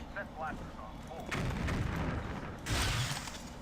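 Blaster and weapon fire in Star Wars Jedi Knight: Dark Forces II, heavy booming bursts with rumbling low end and a bright crackling blast near the end, loud and close.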